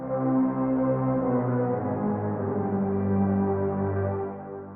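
A sustained, airy synthesized augmented-strings pad swells softly and holds, warm and slightly muffled, with no voices.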